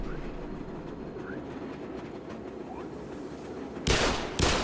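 A tram in the game Black Mesa rumbles along its tracks with a steady, dense clatter, then two sharp loud bursts of grinding or clanking near the end.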